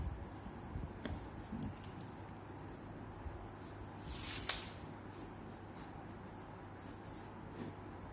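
A pen scratches across paper while drawing a circuit diagram, producing faint, intermittent scribbling strokes with occasional sharp ticks against a quiet room hum.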